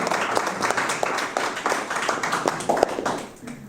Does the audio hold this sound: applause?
yes